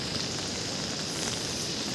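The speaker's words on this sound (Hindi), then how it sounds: "यहाँ लगातार बारिश हो रही है दो दिन से लगातार बारिश हो रही है" Steady rain falls without a break during a monsoon in Uttarakhand, a dense, even hiss that stays level throughout with no voices over it.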